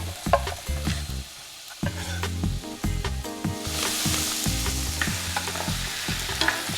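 Garlic frying in oil for an artichoke pasta sauce, with sun-dried tomatoes in the pan, gives a continuous sizzle and repeated knocking stirs, while a low tonal background runs underneath and no one speaks.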